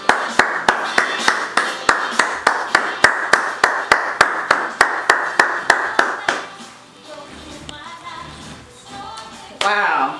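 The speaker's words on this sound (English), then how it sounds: "Give the Lord another hand clap of praise." Church congregation clapping hands in praise in steady, evenly spaced loud claps for about six seconds, then fading to quieter room sound with a voice speaking.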